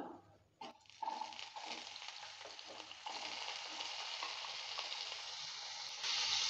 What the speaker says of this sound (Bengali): সরষের তেলটা হিট হয়ে গেছে, এবার দিয়ে দিচ্ছি কাঁচা কলা।